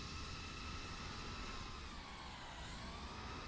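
Airbus A320 engine spooling up in a flight simulator game, a faint steady broadband whine and rumble with no talk over it.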